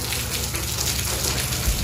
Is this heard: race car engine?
no